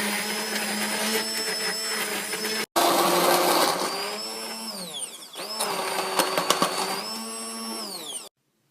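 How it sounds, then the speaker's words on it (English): An immersion blender pureeing a warm date mixture with instant espresso for sticky toffee pudding: a loud, close motor whine that shifts pitch as it works, with a brief stop and restart and a cutoff at the end. "you're going to take an immersion blender and get it pureed"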